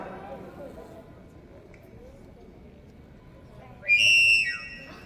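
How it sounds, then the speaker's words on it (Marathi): A quiet stretch of low murmuring gives way to a sudden, loud whistle-like tone near the end, sliding slightly in pitch before fading. "शिट्टीसारखा आवाज का येतो हा एक प्रश्न."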